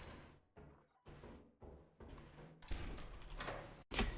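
Several doors close in sequence inside a video game, each a muffled thud or slide. A longer rumbling slide follows and a final sharp clunk ends it, all fairly quiet with no talk.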